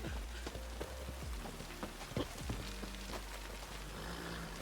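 Rain in The Witcher 3 patters steadily on surfaces, with scattered close drip and splash impacts over a soft, continuous hiss, fairly quiet and with no voices.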